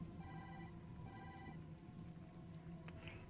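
Muffled phone ringing from inside a paper bag in the video game Tokyo Dark, a steady repeating ring over a dense, busy game background that persists throughout.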